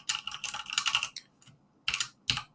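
Rapid typing on a computer keyboard, with dense bursts of close, crisp key clicks, a short pause, then two more brief flurries of keystrokes, with no speech.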